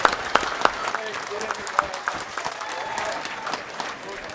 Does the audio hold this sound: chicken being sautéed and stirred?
no